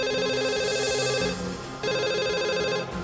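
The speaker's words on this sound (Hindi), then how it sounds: "फोन उठाओ अनु।" A telephone ringing, an electronic ringtone in repeated bursts with a short pause between them, loud and close.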